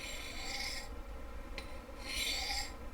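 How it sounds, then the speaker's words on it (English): A recurve knife blade is drawn along an oversized sharpening rod in two long, close rasping strokes separated by a brief pause, with a faint tick in between. "you want to make sure that you're maintaining a constant angle across the whole path of sharpening so that you don't end up with an uneven blade"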